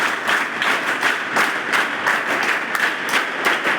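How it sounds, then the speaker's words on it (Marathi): A hall full of people at a Gadchiroli school function applauds the staff, a thick wash of clapping that pulses roughly in unison and stays loud and close throughout. "इथल्या कर्मचाऱ्यांसाठी टाळ्या वाजवा"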